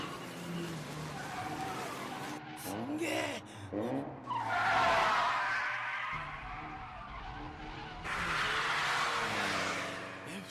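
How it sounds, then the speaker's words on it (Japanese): A Toyota AE86 squeals its tires through a braking drift on the five consecutive hairpins in the Initial D anime. Loud, sustained bursts of tire screech rise in two long waves, with a brief exclaimed voice and engine noise beneath. "出た。 86のブレーキングドリフト。"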